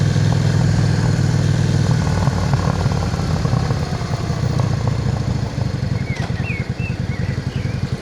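Motorcycle engine idling steadily near the Devil's Bridge Cafe, a low throbbing rumble held for several seconds, with faint birdsong above it toward the end.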